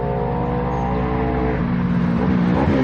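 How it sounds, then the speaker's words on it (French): A motor vehicle engine drones steadily nearby, the sound shifting and rising as a motorcycle approaches and passes on a street. "Vers la moto qui va passer."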